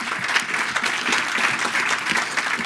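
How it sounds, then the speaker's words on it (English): A full round of audience applause fills a hall at the USHSR DC Summit, with many hands clapping steadily and evenly throughout. "Give him a round of applause."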